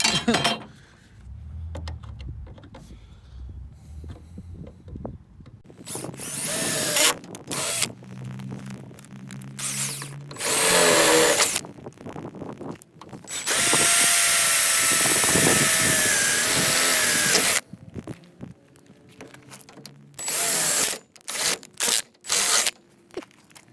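Bursts of a power drill whirring in short runs and one long sustained drilling stretch, with clinks and scraping handling noises in between, while installing a Jeep top.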